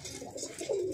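Domestic pigeons of an old, declining breed kept by a fancier in Tonk, Rajasthan, give soft, low throaty coos close by, the cooing swelling slightly toward the end over faint background noise.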